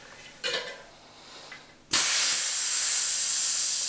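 Air from a BMX inner tube hisses out loud and steady once the valve is opened, a sudden continuous rush that lasts to the end, after a few faint handling clicks.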